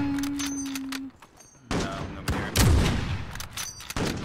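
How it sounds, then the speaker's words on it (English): Sniper rifle fire in Call of Duty Warzone rings out as sharp, heavy reports, one big blast mid-clip followed by further cracks and echoing thuds, loud and close, with a tonal game cue at the start. "I'm going to take a shot"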